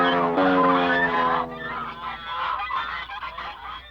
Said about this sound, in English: Sometimes to attract the ducks, the clever hunter uses a duck call.